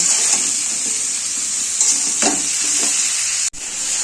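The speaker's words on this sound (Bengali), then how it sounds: "কপিটা ভেজে নিচ্ছি" Cauliflower florets frying in oil with salt and turmeric, a loud close hissing sizzle with occasional stirring scrapes, briefly cut off near the end before resuming.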